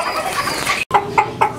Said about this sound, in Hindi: एस्टरलॉक का सेट आया हुआ है, 4 मुर्गी हैं, 1 मुर्गा है